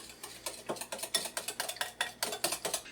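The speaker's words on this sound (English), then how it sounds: "And we're going to whisk it." A whisk beats berry yogurt soup in a bowl, giving quick, rhythmic, faint clinking and swishing strokes close by, with no talking.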